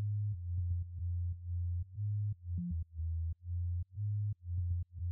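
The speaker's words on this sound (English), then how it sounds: "let's listen to the sub bass without any compression" A deep, pure sub bass synth tone with no compression plays a short rhythmic line of sustained notes and brief gaps, with small clicks at each note change. It is heard on its own, with no other instruments or voices.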